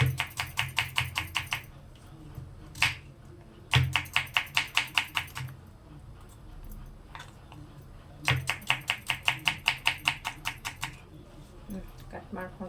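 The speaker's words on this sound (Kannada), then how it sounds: "ಇದನ್ನು ಈರುಳ್ಳಿ ಕಟ್ ಮಾಡ್ಕೊತೀನಿ." A knife chops onion on a cutting board in rapid rhythmic runs of crisp taps, three bursts of steady strokes separated by pauses, close and clear.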